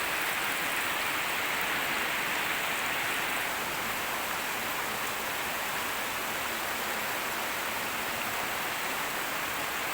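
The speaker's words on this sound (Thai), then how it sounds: "ฝนก็ตกเทลงมานะจ๊ะ" Dense, steady wash of heavy rain, a continuous broadband hiss with no pauses, close and fairly loud throughout.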